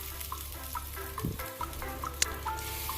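Blended spice paste for Padang-style chicken gulai hits sautéing spices in a pan, giving a steady close sizzle with scraping stirs and a sharp clink, no voices over it.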